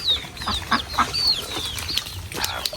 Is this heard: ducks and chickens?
yes